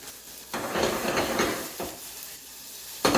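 Half an onion drops into hot extra virgin olive oil and bursts into a loud, rushing sizzle that eases to a steadier fry, with a fresh surge of sizzling at the end.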